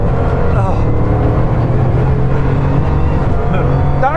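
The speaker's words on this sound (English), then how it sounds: "acceleration, oh my God, the way it just puts down the power. It leaps, doesn't it?" A record-breaking car from the world's fastest car, accelerating hard as a loud, sustained engine drone under constant wind and road roar, with speech overlapping.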